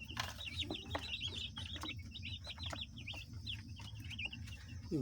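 Chickens on a village poultry setup cluck and chirp steadily throughout, with repeated short calls over a constant low background hum.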